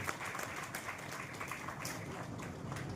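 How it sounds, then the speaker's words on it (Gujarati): Audience applause at a Gujarati tribute and award ceremony, a steady wash of many hands clapping at moderate loudness throughout, without a clear break. "તાળીઓના ગડગડાટથી એમના જીવનના સંઘર્ષને આપણે વધારી દઈએ."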